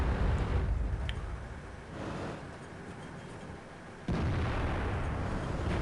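An IS-3 tank cannon fires in the video game World of Tanks, with a heavy blast at the start and another booming shot near the end over a low engine rumble.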